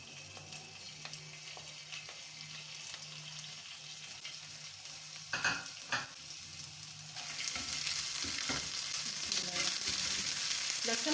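Garlic sautéing in oil in a pan gives a soft, steady sizzle, with a few sharp stirring clacks midway before the frying hiss grows louder and brighter toward the end.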